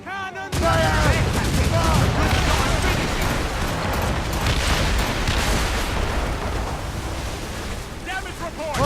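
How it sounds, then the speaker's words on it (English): Heavy ship cannon fire in Assassin's Creed Rogue, booming over a continuous roar of blasts and splashing, with voices shouting throughout. "Cannon! Fire!"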